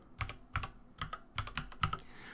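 Keystrokes clatter on a computer keyboard in short irregular clusters, close and fairly quiet, with no voice.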